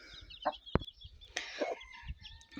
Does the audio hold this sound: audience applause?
no